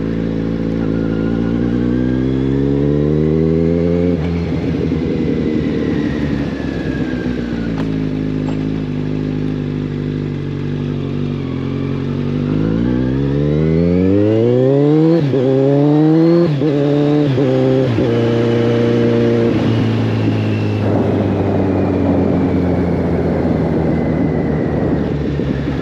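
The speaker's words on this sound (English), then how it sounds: "this bike sounds wicked good" A 2015 Kawasaki Ninja 1000 ABS engine revs repeatedly, loud and close, its pitch sweeping up and falling back through several throttle blips over a steady idle, no voices.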